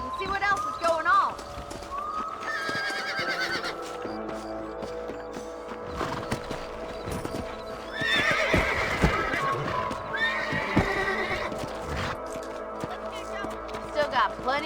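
Horses in the Red Dead Redemption video game, with repeated clip-clop hoofbeats and a few whinnies heard close over game music and ambient sounds. A voice speaks briefly in between.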